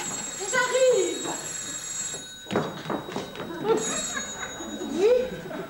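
An indoor telephone bell rings in short repeated bursts, interleaved with lively voices calling out in between the rings.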